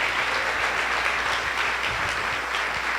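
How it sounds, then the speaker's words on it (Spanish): Congregation applauding at a Sunday church service, dense steady clapping filling the whole stretch with no speech over it. "Si lo comprende, denle un aplauso al Rey,"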